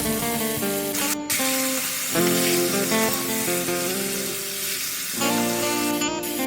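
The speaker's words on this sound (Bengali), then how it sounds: "এইদিকে কড়াইয়ে তেল দিয়ে ম্যারিনেট করা চিকেনটাকে দিয়ে ভালো করে ভেজে নিতে হবে।" Marinated chicken frying in oil in a wok, a continuous close sizzle and spatter that holds steady throughout with brief sharper crackles, no voices.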